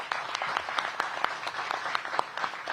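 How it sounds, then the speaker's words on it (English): Moderately distant applause from a press event audience, an even patter of many hands with a few sharper claps standing out. "Give them a big round of applause."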